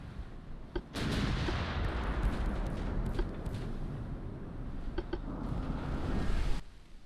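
Naval gunfire from 11-inch L80 guns in the Ultimate Admiral Dreadnoughts warship game, heavy booming salvos followed by a long rolling rumble, with sharp repeated reports near the start and again near the end, loud and close.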